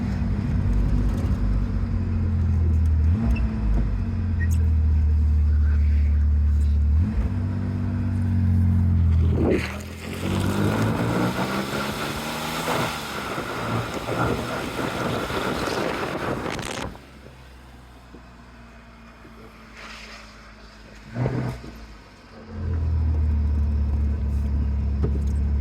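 A 1964 Chevrolet Corvair Monza convertible's engine rumbles and drones steadily, with wind buffeting the microphone and the engine note rising and falling as it drives.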